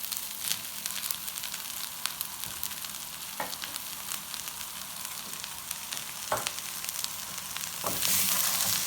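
Mushrooms sizzle steadily in a hot pan, a soft continuous crackle with occasional sharper pops and scrapes, no talking.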